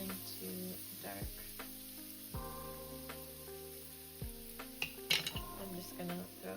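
Spices sizzling and cooking down in a pan, a gentle steady fry under a sustained musical tone, with occasional spoon clinks and scrapes near the end.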